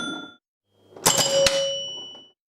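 A Gottlieb electromechanical pinball machine's chime unit rings out with two bright, bell-like strikes about half a second apart, each leaving clear sustained tones that fade over about a second, following a softer ringing tone at the start.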